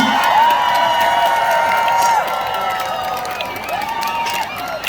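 A concert audience at an outdoor Korean trot concert applauds and cheers loudly and steadily, a dense wash of clapping and shouts with a sustained tone running through it.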